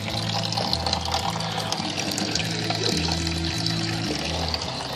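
Water pouring and trickling into a vessel while sparging during home brewing, a continuous close splashing flow over a low rhythmic pump-like hum, with no talking.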